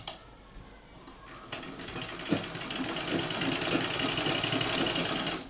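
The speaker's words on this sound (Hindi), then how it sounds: "इसके ऊपर सिलाई निकाल दूंगी" A sewing machine runs steadily, stitching a line across suit fabric, its close mechanical whirr building after a few brief starts and carrying on without pause.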